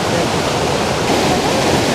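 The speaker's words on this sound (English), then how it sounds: "I'm loving now the way we've got the waterfall coming in from the top right, coming down and exiting bottom left" A waterfall pours in a continuous, loud, broadband rush with no breaks, heard close by and alone without talking.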